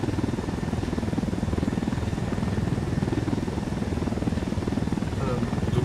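A helicopter in the video game Ghost Recon Wildlands drones steadily with a loud, continuous rotor thrum throughout.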